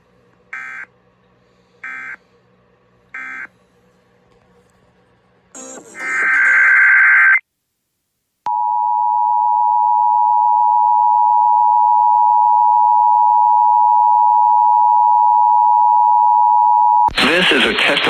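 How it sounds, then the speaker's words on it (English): Emergency Alert System header bursts, three short data-like chirps, followed by a harsh two-tone attention signal, a pause, then the NOAA weather radio alarm as one long, loud steady tone, and another burst at the end. "This is a test of the emergency alert encoding system and the NOAA weather radio alarm."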